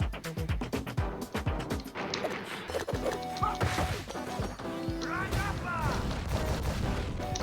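Streets of Rage 4 beat-'em-up combat as grenade-throwing enemies attack: a dense, loud stream of smashing hits, thwacks and explosive crashes over game music, with a few swooping effects near the end.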